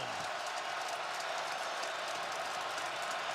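A big college football stadium crowd roars steadily during a Wisconsin–Michigan Big Ten game, a dense, continuous wash of distant cheering with no breaks.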